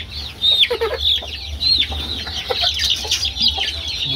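Chicks cheep and cluck in a newly built poultry coop that is safe from rats, with high, repeated peeps scattered throughout over a low steady background hum; no one talks.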